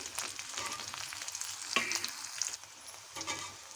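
Garlic cloves and dried red chillies frying in hot oil for a Telugu green tamarind chutney, a steady close sizzle with light stirring scrapes and small pops running throughout.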